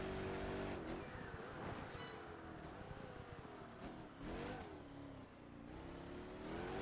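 A race car engine roars at high speed in Project Gotham Racing 4, its pitch rising and dipping as the car brakes and accelerates, loud and continuous with a brief whine and tire noise.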